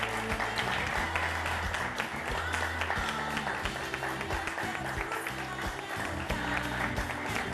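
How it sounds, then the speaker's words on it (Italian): Applause from the audience at a live Miss in onda beauty pageant prize-giving on Italian TV, a steady wash of clapping that holds level through the whole stretch, with faint voices and music layered underneath. "Un applauso anche qui."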